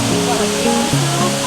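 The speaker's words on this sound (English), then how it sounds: "I love the waterfall." Amicalola Falls in Georgia roars as a steady, dense wash of falling water, loud and close, filling the whole short stretch while a voice speaks over it.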